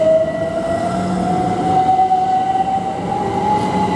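Class 387 electric train 387142 pulls away from Goring & Streatley station on the Great Western Main Line, a steady rumbling roar with a sustained whining tone that climbs slightly as it gathers speed, close and continuous.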